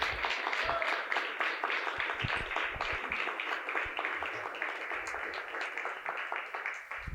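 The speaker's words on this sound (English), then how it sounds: "Can you give them another round of applause?" Sustained applause from a crowd, dense and steady, gradually thinning slightly toward the end.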